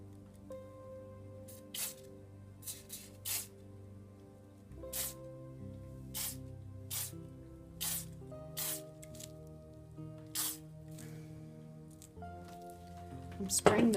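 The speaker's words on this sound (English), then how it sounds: "I'm spraying the plate so that it rains down in a finer mist." Short hissing bursts from a spray bottle misting a plate during acrylic pour painting repeat at irregular intervals, close by, over a steady background hum.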